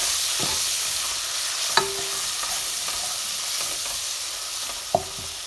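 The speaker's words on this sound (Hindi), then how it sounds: "लहसुन अदरक का पेस्ट डाल के इसको अच्छी तरह से मिक्स करें।" Ginger garlic paste being stirred into onions frying in a pan, giving a steady soft sizzle with a few sharp spoon scrapes against the pan, no voices.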